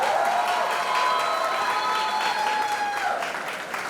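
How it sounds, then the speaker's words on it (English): Steady audience applause for a school principal, many hands clapping with light cheering and a faint tonal hum, sustained and fairly loud before easing off slightly at the end. "a big round of applause for your principal for giving Mahima this shot"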